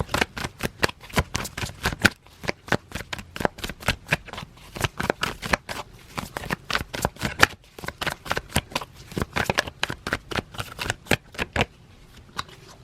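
A deck of tarot cards is shuffled close up in quick, crisp riffles and flicks that come in irregular bursts for several seconds, with no talking.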